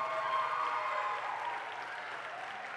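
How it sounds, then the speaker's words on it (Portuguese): Applause from a church congregation at a youth worship service, a steady wash of hand clapping that fades slightly toward the end, with faint crowd murmur underneath. "Você pode dar uma salva de palmas a Jesus."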